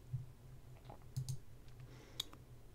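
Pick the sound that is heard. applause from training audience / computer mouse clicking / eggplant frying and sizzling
computer mouse clicking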